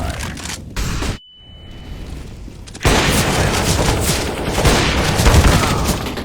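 A flashbang grenade in Counter-Strike: Global Offensive: loud in-game thuds and blasts, a sudden drop to near silence with a thin high ringing tone, then a burst of dense, loud rapid gunfire and action noise.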